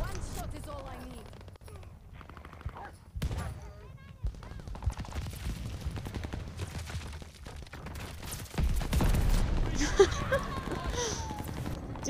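Combat shotgun blasts and other gunfire in the video game Call of Duty: Vanguard, scattered sharp shots amid game effects and footsteps, with a player talking over the action.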